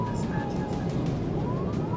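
A police car siren wails steadily in slow rising and falling sweeps during a high-speed chase through congested traffic near Vero Beach, under road and engine noise with a narrator talking over it.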